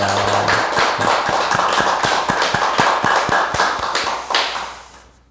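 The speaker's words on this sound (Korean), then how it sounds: "하나님께 박수로 영광을 드리겠습니다" A church congregation applauds during a Korean Sunday worship service marking the church's third anniversary, loud dense clapping with rhythmic sharp beats that fades out at the end.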